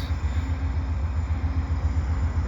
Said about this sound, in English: I've got a rare joint train here on the CN tracks here at Dorval.